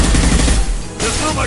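Gunfire in the PS4 version of the video game Mass Effect 2: a dense, loud burst of rapid shots that eases off briefly, then another volley follows.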